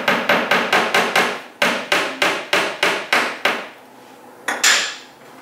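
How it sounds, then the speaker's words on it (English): A hammer strikes a nail into a wall in a steady series of sharp, ringing blows, pausing briefly midway, then two final hits after a short gap. "With my trusty hammer and my nail, I'm going to just pop it in here like this."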